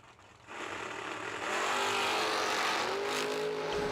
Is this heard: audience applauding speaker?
no